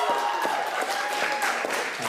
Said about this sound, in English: Can we do like a rock and roll clap for them